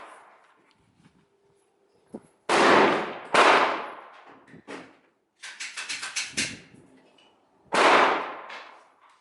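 Rifle shots fired at a target, four loud sharp cracks spaced a second or more apart, each ringing off in a short echo, with a quick rattling burst of smaller cracks between them.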